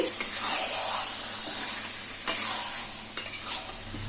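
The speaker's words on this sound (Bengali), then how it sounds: "পেঁয়াজ আর চিকেন খুব ভালোভাবে মিশিয়ে দিচ্ছি।" Marinated chicken and onions stir-fry in a pan with a loud, close, continuous sizzle, broken by a couple of sharper clacks from the stirring spoon.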